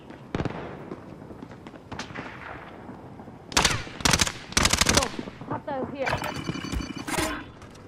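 Bursts of automatic gunfire in Call of Duty: Modern Warfare, sharp rapid volleys arriving in clusters with short pauses, loud and close, mixed with other game effects.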